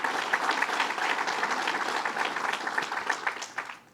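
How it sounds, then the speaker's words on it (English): A crowd at a governor's bill-signing event applauds with dense, sustained clapping that holds steady for several seconds before tapering off at the end. "let's give them a round of applause"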